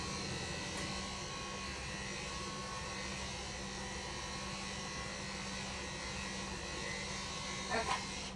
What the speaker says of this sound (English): I'm going to take my clipper with the comb guard, I'm going to do down the sides, down the chest a little